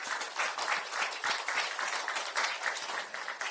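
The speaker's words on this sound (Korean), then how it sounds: "우리 이재명 당대표님께 다시 한번 큰 박수 부탁드립니다." A crowd applauds at a Democratic Party election rally in Chungnam, South Korea; the clapping is fairly quiet and distant-sounding but continuous and dense, with slight swells and no speech on top.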